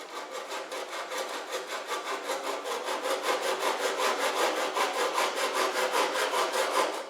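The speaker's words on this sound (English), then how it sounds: "Now using the Dozuki pull saw, I can trim" Steady back-and-forth rasp of a Japanese Dozuki pull saw trimming a wooden canoe strip, rhythmic strokes about three or four per second, close and fairly loud, with no voices.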